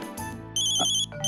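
A telephone ringtone chirps in short, bright bursts with brief gaps between them, loud and close, over a quiet background hum in a household scene.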